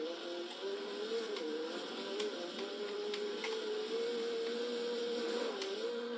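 A Lancia Stradale rally car with a small 1.4 or 1.6 litre engine, driven at speed in Forza Horizon 2, holds a steady buzzing engine drone that wavers slightly in pitch throughout, with no voices.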